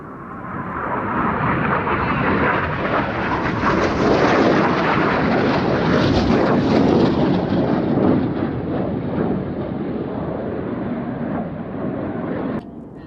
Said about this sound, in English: And coming in from the right is Red 8, that's Flight Lieutenant Rich Walker. Opposition barrel roll.